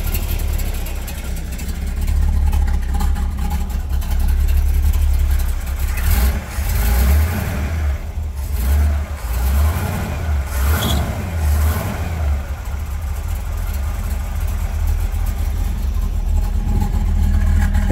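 A 1970 Chevrolet Nova SS 396 with matching numbers and low original mileage runs close by, its deep idle rising in a few revs through the middle of the stretch before settling back to a steady rumble.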